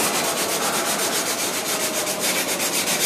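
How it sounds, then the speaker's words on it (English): Medium sandpaper rubs back and forth over a car's painted panel before a touch-up paint job, giving a steady, close, rhythmic scratchy hiss that continues without pause. "so now I'm going to use the medium sandpaper"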